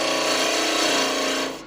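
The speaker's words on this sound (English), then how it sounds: "I'll grab a narrow parting tool just to give myself some marks" A narrow parting tool on a wood lathe cuts into a spurtle held in a chuck, giving a steady close scraping hiss that fades out at the end.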